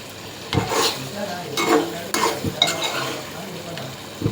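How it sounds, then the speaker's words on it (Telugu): Prawn curry stirred in a pan on the stove, Godavari-style raw prawn curry: a spoon scrapes and turns the thick mixture in several loud strokes with a soft sizzle beneath, no talking. "ఇలా జాగ్రత్తగా కలపాలండి, లేకపోతే రొయ్యలు ముక్కల కింద విడిపోతుంది"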